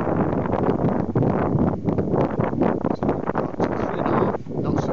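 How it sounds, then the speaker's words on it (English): Strong wind buffeting a microphone aboard a Jeanneau 409 sailing yacht at sea between Spain and Majorca, a steady loud roar with gusty rumbling surges and rustling flutter throughout. "Lots of wind."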